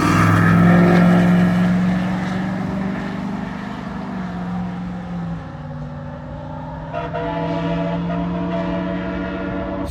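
Two lifted mud trucks drag race down the strip at a Florida truck meet, their engines roaring loudly and close at first, then easing into a lower, fading drone with a brief renewed surge.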